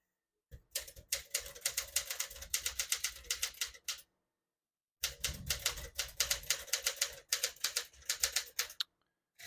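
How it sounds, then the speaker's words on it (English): Rapid mechanical clacking of a 1964 Smith-Corona Sterling portable manual typewriter, typing in red ribbon, keys striking in quick bursts, with a short pause midway before typing resumes; close and crisp. "I'll type a sentence in red on the next line"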